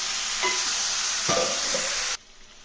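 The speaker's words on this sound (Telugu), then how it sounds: "ఇప్పుడు ఈ కలిపి పెట్టుకున్న చికెన్ని దీనిలో వేసాను వేసేసి బాగా కలిపినా" Marinated chicken stirred in a frying pan for mango chicken, a steady bright sizzle with a few scraping strokes of the spoon, close and loud, cutting off abruptly near the end.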